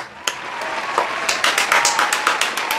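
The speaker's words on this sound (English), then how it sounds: "this is me applauding" One person claps their hands at a craft table, a quick run of crisp, close claps that grows into a steady, slightly uneven rhythm, loud and alone without talking.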